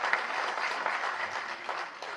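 Audience applause at a Tamil movie audio and trailer launch event, a steady wash of many hands clapping at moderate distance for a couple of seconds.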